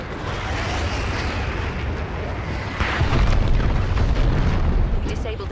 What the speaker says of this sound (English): Deploying airstrike